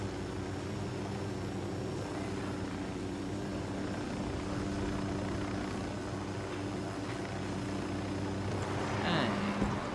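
Constant droning whir of a helicopter's rotor and engine in Ghost Recon Wildlands, steady and loud throughout, with a brief swooping noise near the end.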